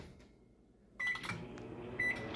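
A microwave oven heating coffee switches on after a quiet moment, and a steady hum and whir runs alone, with a brief tonal beep-like sound near the end.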